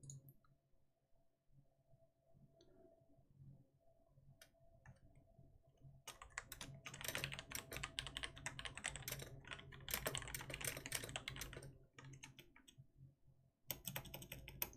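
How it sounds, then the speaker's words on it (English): Keys clatter on a computer keyboard in quick, uneven bursts of typing, faint at first and then louder and denser, with brief pauses between runs of clicks. "Typing to him right now."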